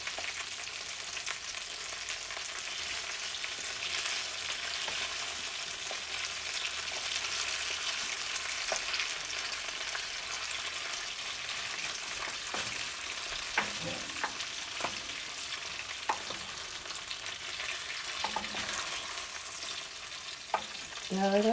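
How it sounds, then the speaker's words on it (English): Turkey drumsticks fry in a pan with a steady, bright hiss of sizzling fat. Occasional scrapes and clunks of stirring come through, growing more frequent toward the end, all fairly quiet and with no talk. "Let's stir it up, let's stir it up"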